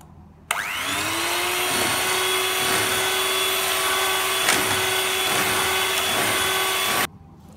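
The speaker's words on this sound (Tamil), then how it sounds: "இப்போ நாங்கள் இதை விப் பண்ணுவோம்." An electric hand mixer runs steadily for about six and a half seconds, whipping cream for homemade ice cream, a continuous motor whine that starts abruptly, holds a constant pitch, then cuts off, with no talking.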